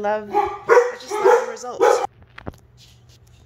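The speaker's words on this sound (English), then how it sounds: "Sorry about the barking." A dog barks indoors in several sharp, loud bursts over the first two seconds while a person talks, followed by quieter room sounds and a soft knock.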